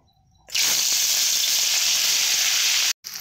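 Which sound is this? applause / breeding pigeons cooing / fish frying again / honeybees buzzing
fish frying again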